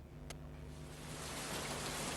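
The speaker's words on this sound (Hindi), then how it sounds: "तेज बारिश होने पर बूंदों की आवाज।" Heavy rain pours down in a dense, steady wash of drops that grows slightly louder and fuller as it goes, with one brief sharp click near the start and no voices.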